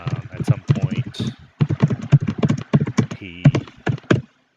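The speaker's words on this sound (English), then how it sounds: "you guys can probably hear me typing" Quick computer keyboard typing taps away in rapid irregular bursts close to the microphone, mixed with someone talking.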